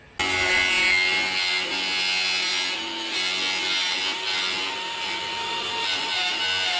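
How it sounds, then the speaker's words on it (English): Angle grinder fitted with a thin wafer blade cutting through PVC pipe, a continuous high-pitched whining buzz that starts abruptly and holds steady for several seconds, close and loud, with no talk. "I'm going to be using an angle grinder. So I've got a wafer blade to make the cut"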